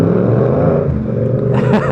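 A Yamaha MT-07 motorcycle with a stage 2 tune accelerates nearby, its engine droning loudly and steadily before a brief higher rev near the end.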